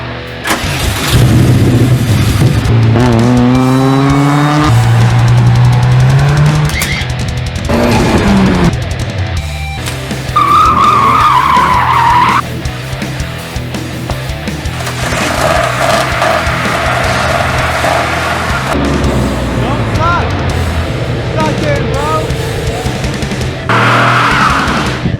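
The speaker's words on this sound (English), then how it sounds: "now I'm back to it, and I'm going to try and drive it this time" An old abandoned ATV four-wheeler, unused for at least a decade, cranks and starts, then its engine idles and revs in uneven bursts, loud and close throughout.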